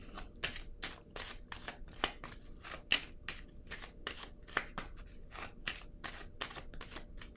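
Playing cards laid one after another onto a table, a steady run of sharp, close taps and soft slaps at an uneven pace, heard alone without talk.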